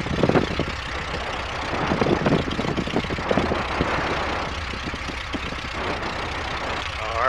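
A piston engine on an EAA biplane idles at about 1,000 RPM, a steady mid-pitched rumble running through the whole stretch with faint talk over it.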